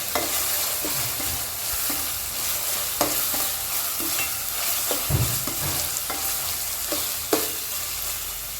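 Sliced onions sauté in a pan for a bitter gourd curry: a steady oily sizzle with repeated scraping stirs and occasional clacks of the spatula, close and alone.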